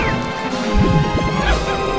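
In Pikmin 2, a boss smashes a treasure egg, a loud crash with whacking impacts and sweeping game effects, close and busy, with no talk over it.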